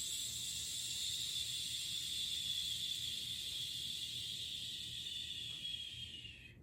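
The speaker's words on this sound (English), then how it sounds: "Pause while the air expands our lungs and blow out with a shush." A long, steady shushing exhale during a breathing exercise, a close, even hiss that holds for several seconds and then tapers off at the end, with no talking.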